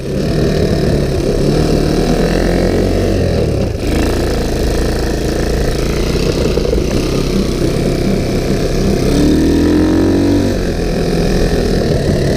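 A small ATV engine runs continuously and loudly up close, a rough steady drone with slight shifts in pitch and a brief dip partway through, with no voices.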